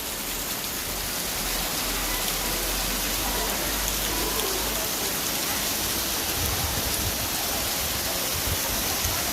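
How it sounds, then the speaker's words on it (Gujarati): Dense, steady night rain pours down in Junagadh without pause, a constant loud hiss of water filling the whole clip, with a low rumble running beneath. "વાગ્યા છે રાતના 9 અને વરસાદ ફૂલ ચાલુ હોય જુનાગઢમાં."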